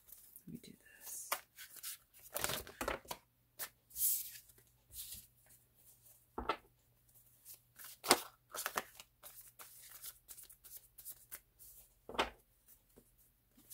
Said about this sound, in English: I just want to shuffle a couple of more times.